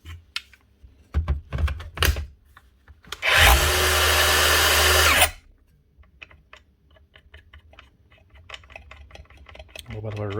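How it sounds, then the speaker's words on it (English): A Dewalt DCS570 circular saw with a worn, rattling bearing whines up loudly for about two seconds, surrounded by clicks and handling knocks of the tool being picked up and set down. "bit of a rattle out of it"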